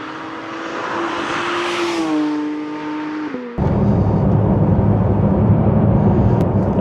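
A Porsche 992.2 GT3 engine accelerating on a road in Wales, rising to a high-pitched rev, a gear change mid-way, then a loud, rough, steady engine roar close up, with no talk.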